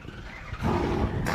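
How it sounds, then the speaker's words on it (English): Race car engines fire up together at Road America, a rising roar of motors that surges in after a quiet moment and holds steady, loud and close. "Drivers, start your engines."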